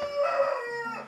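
A rooster at a sanctuary in the Northland bush of New Zealand gives a single crow, about a second long and at moderate distance. The call is strained and wavering and is heard on its own.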